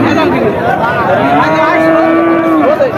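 A cow at a dried-cow cattle market moos loudly and close, one long sustained low bellow with rising and falling pitch over faint market noise.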